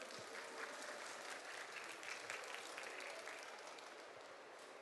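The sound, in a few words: audience applause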